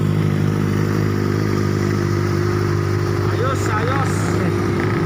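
A Benelli TNT 600i motorcycle fitted with a Two Brothers exhaust idles with a loud, steady multi-cylinder rumble, close by, while a voice speaks over it.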